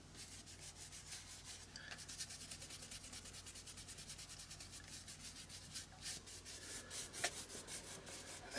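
A crayon rubs back and forth across a mixed media art journal page in quick, even scratchy strokes, a faint close-up scraping rhythm that continues steadily throughout.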